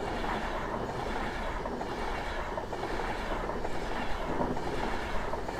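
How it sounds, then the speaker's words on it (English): Liverpool-bound passenger train passing close by, a continuous loud rumble of carriages rolling over the track with rhythmic clickety-clack and faint wheel squeal throughout. "That's a Liverpool train."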